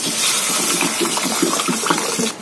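Boiled dal is poured into a tomato-onion masala for dhaba-style dal tadka, making a steady, loud, close gushing splash that lasts about two seconds and then tails off.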